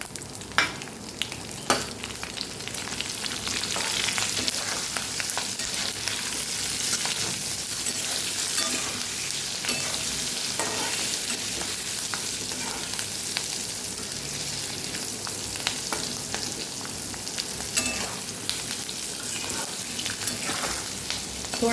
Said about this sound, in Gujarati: અને હવે આપણે તરત ભરેલા મરચાંને ઉમેરી દેવાના છે.